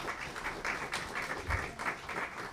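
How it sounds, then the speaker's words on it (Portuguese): An audience at a Brazilian environmental committee hearing in Rio de Janeiro claps in a short burst of applause, fairly faint and distant, with rhythmic bunched claps over a roomy background. "Uma salva de palmas, por gentileza."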